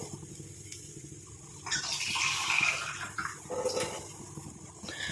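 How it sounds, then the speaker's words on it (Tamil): Half a tumbler of water is poured into a homemade hair-darkening mixture, giving a short, steady splashing gush in the middle of an otherwise quiet stretch, with no talking. "இன்னும் ஒரு 1/2 டம்ளர் அளவுக்கு நான் இதில் தண்ணி சேர்த்துக்கிறேன்"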